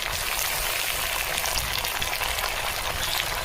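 Ground onion, garlic, ginger-cumin and chilli paste fries in a pan for chicken curry, giving a dense, continuous sizzling hiss that holds steady and close throughout.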